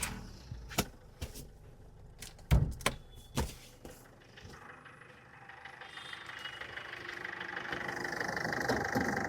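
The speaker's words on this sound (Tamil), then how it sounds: "வண்டியோட இன்ஜின் நான் ஸ்டார்ட் பண்ணிடுறேன்." Several sharp clicks and clunks, then a 2007 Ford Fusion diesel engine cranks and settles into a steady, growing idle rumble, heard close and without talk.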